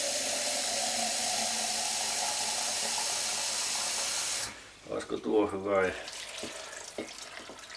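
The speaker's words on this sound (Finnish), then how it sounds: "tuota niin lasketaan tuosta vähän vettä" Water runs steadily from a tap into a container while sausage soup is being cooked, a loud continuous hiss that stops after about four and a half seconds, followed by someone speaking.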